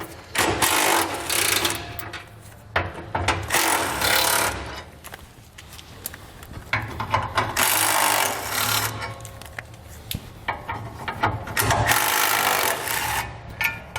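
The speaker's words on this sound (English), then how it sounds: "We're going to have 2 bolts on either side here, which we'll remove using a 13mm socket." Ratcheting and clanking of a 13mm socket working bracket bolts loose on a 2021 Chevrolet Colorado while fitting a Curt trailer hitch receiver, a steady run of close metallic rasping and scraping bursts with brief pauses.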